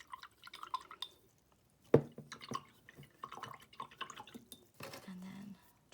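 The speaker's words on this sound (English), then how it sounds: "I'm just gonna twirl mine around my cup of water." A paintbrush twirled in a small cup of water gives quiet, close swishes, trickles and drips in short bursts spread across the moment.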